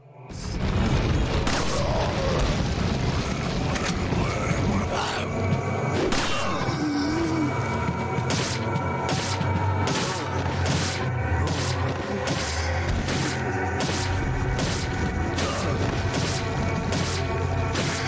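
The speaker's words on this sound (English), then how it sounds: "Now's a good opportunity to use a hand grenade." Hand grenade explosions and combat effects in the video game Resident Evil 4, with repeated loud booms and crashing hits over a continuous dense game soundscape and music.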